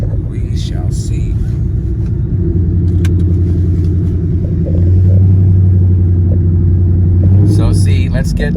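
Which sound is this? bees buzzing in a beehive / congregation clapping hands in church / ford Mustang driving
ford Mustang driving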